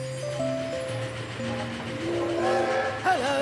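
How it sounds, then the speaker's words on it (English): A cartoon train heads into town, its whistle tones sustained and gliding over a soft rolling rumble of wheels, building slightly as it approaches. "Sounds like trains heading into town."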